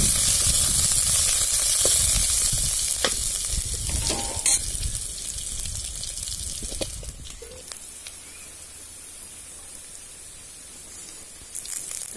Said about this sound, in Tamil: கருவேப்பிலை, மல்லித்தழை, பட்டை மிளகாய் நல்லா வதங்கிருச்சு